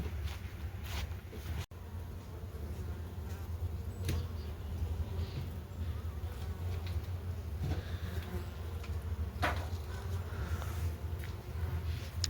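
Honeybees flying in front of hives at an apiary in the early morning, a steady, soft, continuous buzzing hum of many bees, with faint occasional knocks.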